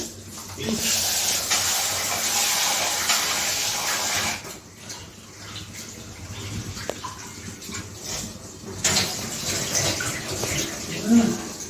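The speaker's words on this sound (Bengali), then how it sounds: "আগে পায়েস চালটা ধুয়ে নিই।" Rice for payesh is rinsed under a running tap, giving a steady hissing rush of water with splashy shifts and short pauses as the grains are swirled.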